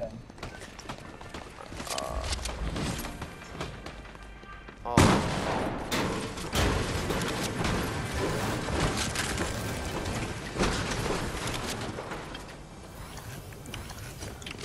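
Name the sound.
gunfire from the video game Fortnite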